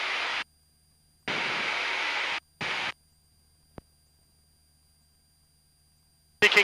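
Engine roar of a small airplane in flight, heard from inside the cabin near Kings Island, comes in loud, steady broadband bursts that cut off abruptly, with silent gaps and a final burst at the end.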